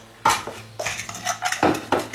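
A fork clatters against a bowl while mixing oat-protein pancake batter, with sharp scraping bursts and taps in irregular, close-up strokes.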